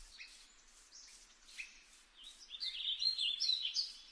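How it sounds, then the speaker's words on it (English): Birds chirp and sing in a quiet forest, high repeated calls in short bursts that grow busier and slightly louder toward the end, fairly faint and distant with no other sounds. "In Minecraft should be added sounds such as birds singing in the forest"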